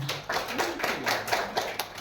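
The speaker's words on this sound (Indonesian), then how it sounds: "Dan saya minta tepuk tangan dari kita semua." Brief round of hand clapping from a gathered group at a school teachers' community learning event, a handful of distinct claps in quick succession, fairly quiet and close.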